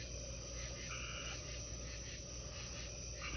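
A chorus of tree frogs croaks continuously outdoors near a pond, layered raspy calls over a dense insect-like drone, faint and distant with no voices.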